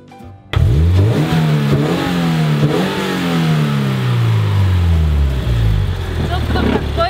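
A Toyota GR86 sports car fitted with an aftermarket exhaust muffler is revved hard, the engine note climbing and falling in several loud, close throttle blips and long sweeps, with faint voices underneath.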